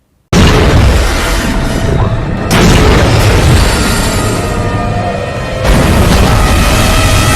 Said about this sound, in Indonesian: Mereka berhasil meledakkan bagian tengah kapal.